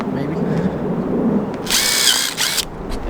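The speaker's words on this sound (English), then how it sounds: "drilling the holes for the lip. So we could screw it in." A power drill bores holes to mount a front lip on a Honda Civic, a loud high-pitched whir running for about a second in one burst with a short follow-up, over a steady background hum.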